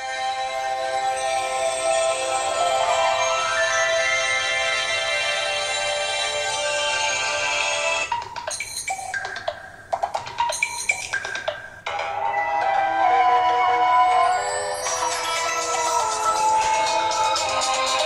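A ringtone melody plays from the loudspeaker of an Elephone P3000S phone, a steady, bright electronic tune that thins into sparse notes midway before resuming fully.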